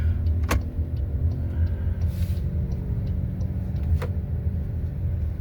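A Toyota Innova Zenix petrol car drives with a low, steady engine and road rumble heard from inside the cabin, with a couple of brief clicks and a soft whoosh over the drone; no talking.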